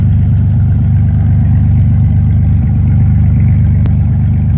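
A 1998 Ford Ranger with a 3.0 engine runs with no muffler, a loud, close, steady low rumble with a fast throbbing pulse and no talk.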